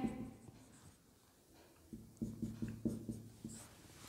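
Pen or marker writing out step 3 during a maths lecture on real numbers, faint scratchy strokes in short bursts near the end, quiet and close with no speech.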